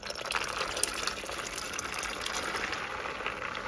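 A pound of black-eyed peas soaked for eight hours is poured into a pot, giving a steady watery gush and splash for several seconds, close and fairly loud with no talk.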